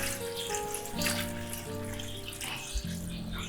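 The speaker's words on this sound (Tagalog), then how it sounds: "mag-add tayo ng tubig." Water poured into a pan of sautéed mixed vegetables, a soft steady splashing and hiss heard faintly over a low hum with sustained tones, with no talking.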